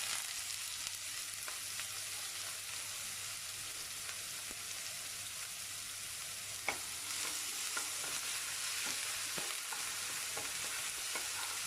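Curry leaves, onion and ginger-garlic paste sauté in a pan for cauliflower chilli fry, making a steady, fairly faint sizzle with scattered spatula taps and scrapes throughout.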